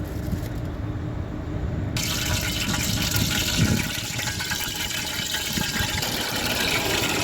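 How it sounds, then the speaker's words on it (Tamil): Cooking oil is poured into a pan while an elephant foot yam stir-fry is being made, a close, continuous liquid gush lasting several seconds, with no speech. "தேவையான அளவு எண்ணெய் சேர்த்துருக்காங்க."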